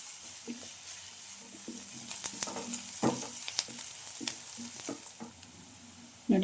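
Small finely chopped onions frying in hot oil, a steady soft sizzle with occasional stirring scrapes and clicks, close and fairly quiet with no talking.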